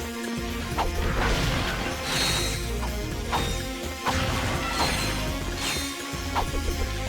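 Bolt collection in Ratchet and Clank 2 on PlayStation, a steady stream of bright metallic clinks and crashing pickups repeating in quick bursts over a dense, busy game soundscape.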